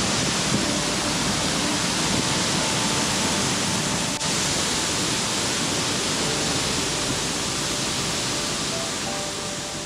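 Kumbhe waterfall in Maharashtra flowing heavily in the rain, a steady, dense roar of rushing water that fills the whole stretch without pause.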